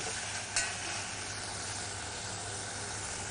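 Small pre-cooked eggplant cubes frying on the heat, a soft continuous sizzle and hiss with a brief scrape of stirring near the start.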